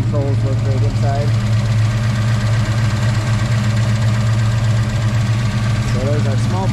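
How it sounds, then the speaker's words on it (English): A 1961 Ford Falcon coupe with a 5.0L small-block V8 and Holley Sniper injection idles steadily, a close, loud, even rumble with rhythmic ticking from the injectors firing throughout. "You can hear the loud Holley Sniper injectors firing."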